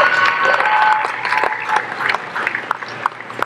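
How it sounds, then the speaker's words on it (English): An audience at the 2023 University of the District of Columbia commencement applauds the faculty, a brief burst of clapping that swells and then thins into scattered claps, heard from the crowd at moderate volume. "Let's give them all a big round of applause"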